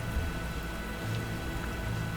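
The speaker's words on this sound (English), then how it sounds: "It's raining." Steady rain falls in the Panzer Corps 2 strategy game, a dense, even hiss of droplets on surfaces that holds without a break for the whole stretch.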